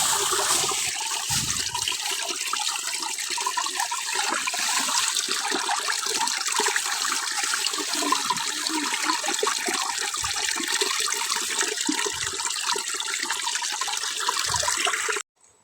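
Water from a mountain spring runs in a steady, full rush close by, a continuous splashing flow that holds level until it cuts off abruptly at the end.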